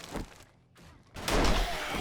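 Pistol shots ring out in 7 Days To Die: a sharp report, a pause, then a louder burst of blasts and crashing impacts, close and without talk.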